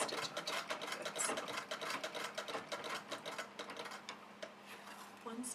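An embroidery sewing machine stitching a net mesh base for jewelry, running in a rapid, continuous chatter of needle strokes, close and fairly quiet, with no speech.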